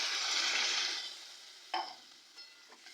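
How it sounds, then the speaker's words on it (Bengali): Water is poured into sautéed masala in a hot pan, setting off a loud burst of hissing that fades within a second, followed by a few softer, short sizzling spits. "এবার এর মধ্যে আমি জল দিয়ে দিচ্ছি"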